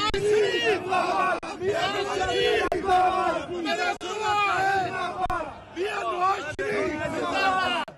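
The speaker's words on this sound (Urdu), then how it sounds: "پاکستان تحریک انصاف کے کارکنوں نے لیگی قیادت کے خلاف شدید نعرے بازی کی" A crowd of PTI workers at a London protest chants slogans against the PML-N leadership, many voices loud and close in repeated rhythmic bursts with brief pauses between them.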